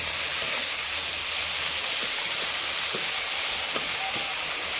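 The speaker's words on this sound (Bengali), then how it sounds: "পেঁয়াজটা আমি লালচে গোলাপি করে ভেজে নেব।" Onions fry in a pan until reddish-pink for a Kolkata Golbari-style kosha mangsho, making a steady close hiss with faint scattered crackles and no talk.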